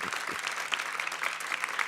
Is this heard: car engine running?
no